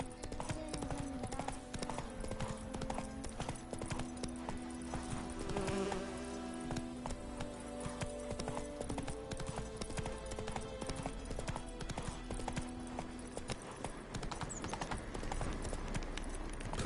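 Horse hooves galloping in The Witcher 3, a fast steady clip-clop close by over buzzing insects and ambient game sound, continuing throughout.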